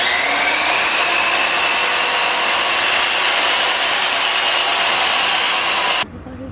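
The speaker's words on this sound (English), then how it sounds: "So we're gonna cut the dowel rod pieces now." Wooden dowel rod being cut into one-inch pieces for a DIY jewelry display bust board, a steady, loud rasping cut lasting about six seconds before it stops abruptly.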